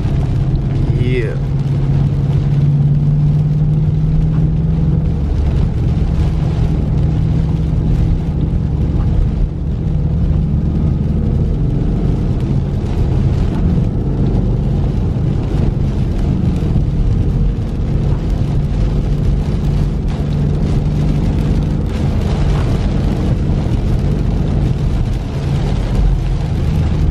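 A new Ford Mustang GT engine drones low and steady while cruising in third gear, heard from inside the car alongside wind noise, with people talking over it.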